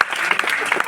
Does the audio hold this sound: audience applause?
yes